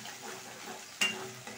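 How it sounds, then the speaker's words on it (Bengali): A spoon stirs fried prawns into a sizzling spice masala in a pan, with a steady low frying hiss and one sharp clink of utensil against the pan partway through, no voices. "এবার যে চিংড়ি মাছটা আমি ফ্রাই করে রেখেছিলাম, এটা কিন্তু এখানে অ্যাড করে দিচ্ছি। দেওয়ার পরে এবার আমি মিশিয়ে দিচ্ছি।"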